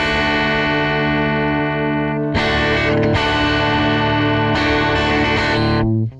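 Electric guitar playing sustained distorted chords through a Fractal Audio Axe FX III with its enhancer in modern mode, a thick, effects-laden tone with chord changes near 2.4 and 4.6 seconds, loud and steady with no talking.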